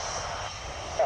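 A military aircraft at RAF Marham flies past, a broad steady engine roar with a brief rise at the end, heard under a speaking voice.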